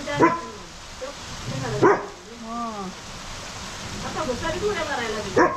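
A dog plays outdoors in the rain, giving several short barks and yips with whimpering cries between them, close by over a steady rain hiss.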